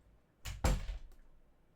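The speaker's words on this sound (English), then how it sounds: "I'm going to close the door" An office door swings shut with a single solid thud and a short rattle, fairly close and alone in a quiet room, followed by faint room noise.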